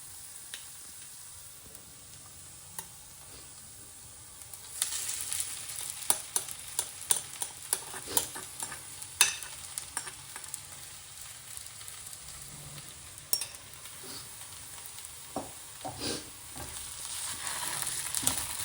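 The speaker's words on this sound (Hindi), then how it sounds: "तो इस प्याज को फ्राई करते हुए हमें 5 मिनट हो गया है।" Onions sizzle steadily in a hot pan while a utensil stirs and scrapes, knocking against the metal in irregular clicks and taps; the frying grows louder midway as stirring picks up, with no talk.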